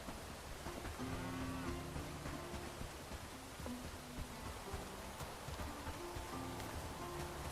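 Cattle in the farming game Bellwright moo repeatedly in low, drawn-out calls over a steady rain-like hiss, several overlapping bellows spread across the scene at moderate distance.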